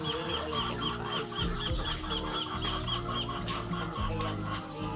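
Laying hens on a chicken farm cluck continuously in a dense, busy chorus, many birds at once near and far, with a low farm hum beneath.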